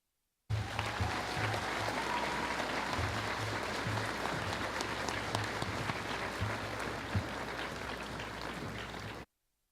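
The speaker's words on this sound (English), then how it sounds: "Let's have another round of applause for our speakers." Graduation audience at El Dorado High School applauding its student speakers, a steady, dense wash of clapping from a large crowd that holds at an even level for about nine seconds before cutting off.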